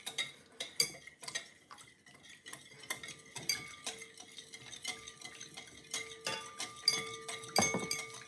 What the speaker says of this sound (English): you want to gently stir your chocolate chunks with the milk and the hot milk and the hot cream